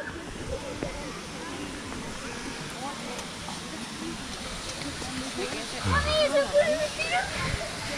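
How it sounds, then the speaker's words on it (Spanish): A waterfall in Calderón park, heard from its base as a continuous rushing hiss of falling water, with indistinct voices mixed over it. "ya estamos aquí en la parte de abajo de la cascada."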